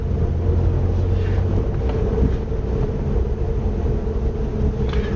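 A learner's car driving along a bumpy road in England while changing up into third gear, giving a steady, loud engine and road rumble with continuous wind and cabin noise throughout.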